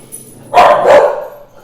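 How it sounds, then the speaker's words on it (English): Dogs barking indoors, two loud close barks in quick succession, with no talk. "This wouldn't be one of my videos without my dogs barking."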